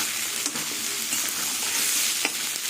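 Potatoes frying in a covered pan for an aloo posto dish, a steady broadband sizzle with a few soft stirring scrapes, close and continuous with no talking.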